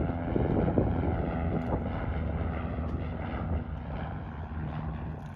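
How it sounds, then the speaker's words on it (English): A propeller plane drones overhead above the shiny salt flats of the Great Salt Lake, a steady broad engine hum with some wind buffeting, fairly loud and sustained throughout. "Plane above me."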